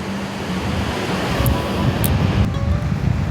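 Sea waves wash onto the white-sand shore of Dublagadi beach in a continuous surging roar, mixed with wind buffeting the microphone, and no one speaks.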